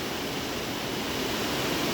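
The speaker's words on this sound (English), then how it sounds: "you can probably hear the rain really pouring now" Heavy rain pours down on a farm, a dense, even roar of hiss that stays constant and loud with no voices.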